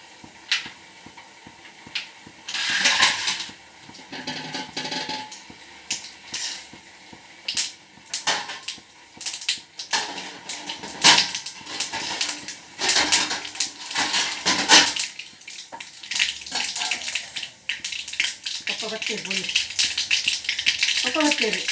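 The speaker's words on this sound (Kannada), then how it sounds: "ಇವಾಗ ಇದಕ್ಕೆ ಸಾಸಿವೆ ಹಾಕ್ತಾ ಇದ್ದೀನಿ." Mustard seeds hit a hot pan in a Mangalore village kitchen, crackling and spluttering in irregular sharp bursts with metallic clatter, fairly close and loud.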